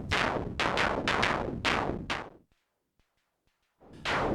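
Orbit synthesizer oscillator dot 2 switched to noise mode, giving a rapid series of harsh broadband noise bursts that stop into near silence with faint clicks before another burst returns at the end.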